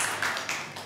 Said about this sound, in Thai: เอาปรบมือให้เพื่อนหน่อย